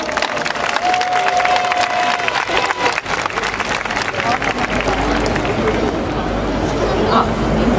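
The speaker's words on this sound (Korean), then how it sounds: "박수로 청해 듣겠습니다." A crowd at an outdoor climate justice march applauds ahead of a choir's song, a loud broad wash of clapping and crowd babble that carries on throughout, with murmured voices mixed in.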